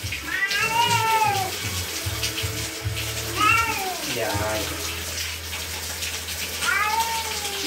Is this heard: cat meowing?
yes